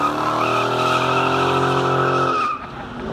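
A 1983 Chevy El Camino V8 with dual straight-pipe exhaust roars loud and close in a steady, sustained rev, then cuts off abruptly near the end, leaving a rougher idle rumble.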